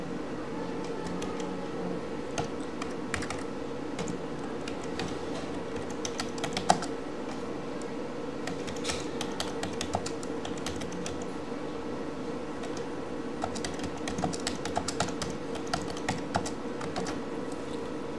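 Keys on a computer keyboard tap steadily as questions are typed for a classroom assignment, soft close clicks scattered over a constant low hum, with no talking.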